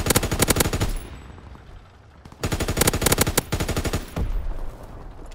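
Rapid machine gun bursts from a World War II shooter game, loud and close, firing in long rattling strings that pause briefly near the middle before resuming with steady repeated volleys.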